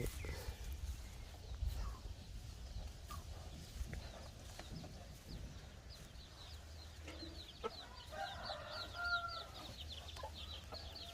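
Hens and young chicks on a Thai cattle-raising farm cluck and peep in scattered bursts, with high chick chirps clustering in the latter half over a quiet rural background and occasional low thumps.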